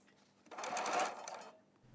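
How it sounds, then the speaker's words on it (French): A sewing machine bastes long stitches in the seam allowance of a dress, giving one short quiet run of rapid stitching that rises and fades within about a second. "Bâtir à grands points dans la marge de couture pour les maintenir en place."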